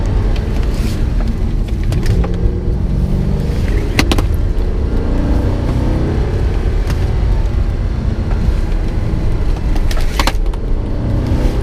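An Audi R8 on its stock exhaust accelerates on a mountain road, giving a loud, steady engine roar with a broad rumble and wind noise from an in-car point of view, with no talking.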